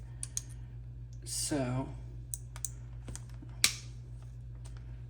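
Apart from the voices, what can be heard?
cutting glass mosaic pieces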